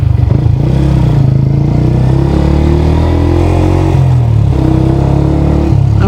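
A Yamaha YZF R125 engine drones loud and close while the bike is ridden, its pitch rising steadily as it pulls, then dipping briefly and climbing again, with wind rush throughout and no talking.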